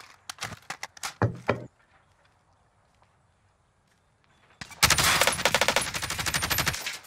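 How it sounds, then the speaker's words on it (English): Bursts of automatic gunfire from a Kilo 141 rifle in Call of Duty Warzone, Modern Warfare: a short choppy volley, a quiet gap, then a long sustained loud spray of rapid shots. "I'm laying down good shots here."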